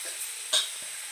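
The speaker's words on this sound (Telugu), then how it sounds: "ఇప్పుడైతే ఈ నెయ్యిలోనే మనమైతే క్యారెట్ కూడా వేసేసుకుంటున్నాం. దీన్నైతే ఒక 2 to 3 minutes అయితే ఫ్రై చేద్దాం." Grated carrots frying in ghee for sweet-shop style carrot halwa, a steady soft sizzle with a brief louder stirring scrape midway and a faint clink near the end, no voices.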